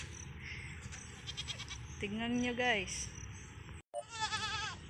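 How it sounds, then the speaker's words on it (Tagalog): Several goats bleat nearby, drawn-out wavering calls with brief pauses, while a person talks over them. "Ang dami talaga mga kambing."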